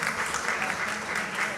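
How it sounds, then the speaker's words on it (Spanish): Audience clapping for a guest's mother at a public talk, a short, steady burst of many hands applauding, fairly loud and even throughout. "La señora, por favor, unas palmas para ella, por favor."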